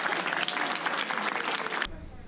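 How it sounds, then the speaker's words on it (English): Audience applause at a Federal Way City Hall ceremony honoring a community barber with the key to the city, a dense, steady burst of clapping from a crowd that cuts off abruptly near the end. "Let's give her a big round of applause."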